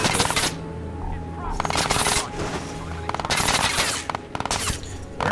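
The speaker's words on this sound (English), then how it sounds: "Where are they shooting?" Bursts of automatic gunfire from enemy soldiers in the video game Crysis 2, coming as several loud rapid volleys separated by short pauses, with game ambience in between.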